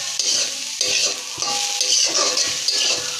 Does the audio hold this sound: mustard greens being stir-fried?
yes